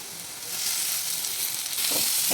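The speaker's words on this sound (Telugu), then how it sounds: "ఇప్పుడు దీంట్లోనే కరివేపాకు వేసుకుంటున్నాను" Curry leaves drop into hot oil with okra and sizzle sharply, a steady high hiss that swells near the end with a few stirring scrapes, close and alone.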